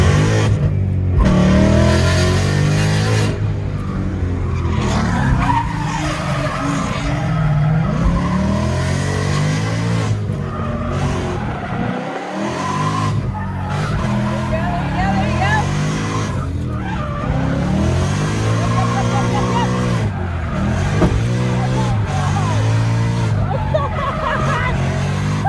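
A Corvette drifting during a drift challenge, tires screeching loudly and continuously over a revving engine, with shouting voices mixed in throughout.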